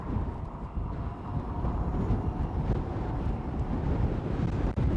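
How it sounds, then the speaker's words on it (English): Strong wind buffets a hilltop in gusty, roaring bursts, a heavy low rumble that swells and eases close to the microphone with no other sound standing out. "the wind is insane up here"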